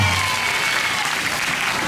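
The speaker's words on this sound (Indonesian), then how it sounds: "Plus tepuk tangan bagi kita semuanya." Students in a school setting applauding together, a dense burst of clapping from a nearby crowd that fills the short moment.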